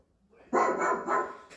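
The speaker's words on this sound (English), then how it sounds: "what does a dog sound like?" A recorded dog bark played from a smart speaker, a couple of loud barks close by with no talking over them.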